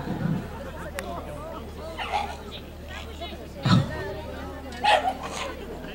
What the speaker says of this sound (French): Il y a un petit chien qui fait des drôles de bruit sur le bord.